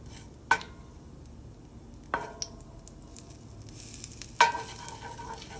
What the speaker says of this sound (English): make sure to temper them in the ghee so that the cumin is nicely